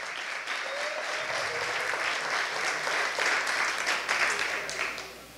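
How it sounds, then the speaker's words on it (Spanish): An audience applauds after a talk at a biodiversity event, steady dense clapping throughout at even volume, with faint crowd murmur underneath. "Otro aplauso."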